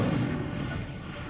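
Incendio fire spell cast in Hogwarts Legacy: a single loud, low whooshing burst of flame that swells at once and rolls away over about a second, with no voices.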